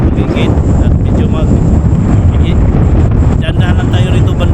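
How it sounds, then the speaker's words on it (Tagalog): Strong, cold outdoor wind on a trip in Pangasinan roars steadily into the microphone, loud and buffeting throughout, with faint voices underneath. "At napakalakas ng hangin, ang lamig."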